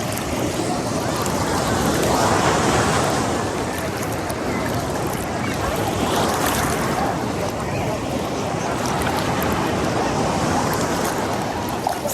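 Sea waves wash onto the shore at Odesa as a loud, continuous broadband roar with slow swells, close by and heard alone without talk.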